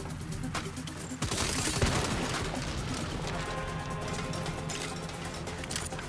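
Rapid turret gunfire in the Saints Row video game, a dense burst of repeated shots that starts abruptly after a second and keeps hammering steadily amid background combat noise.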